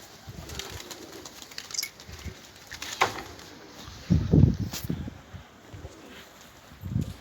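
Pigeons cooing low and soft at intervals, with a couple of brief fuller bursts and light rustling, fairly quiet against an open-air background and no talk.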